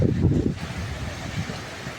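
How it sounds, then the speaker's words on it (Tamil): Cold wind and rain in Theni, blustery low rumble and rushing noise buffeting close, strongest at the start then settling into a steady gusting roar, with no speech. "காற்று குளிர் அடிக்குதுங்க."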